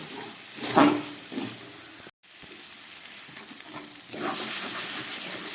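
Chopped banana stem for a Bengali thor curry stirring and drying in a pan over low gas, a soft steady sizzle with a couple of scraping stir strokes and a brief pause midway.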